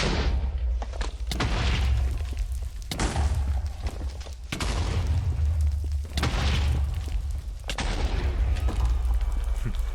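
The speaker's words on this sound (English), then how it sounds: "Not the cleanest bed bombing." Repeated bed explosions against the Ender Dragon in Minecraft, loud booming blasts at irregular intervals about every one to two seconds, each with a deep rumbling tail, continuing steadily with no talk.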